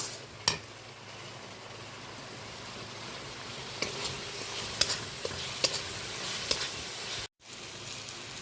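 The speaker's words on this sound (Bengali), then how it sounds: "এই সমস্ত গুঁড়ো মশলাগুলো ভালোভাবে আমি কষিয়ে নেব, তেল ছাড়া পর্যন্ত অপেক্ষা করব।" Ground coriander and cumin frying in oil for a spicy Bhola fish curry, a steady close sizzle broken by a few sharp spoon scrapes and clicks as the spices are stirred, with one brief dropout near the end.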